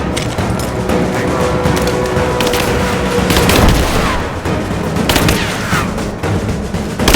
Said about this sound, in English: I'm under fire!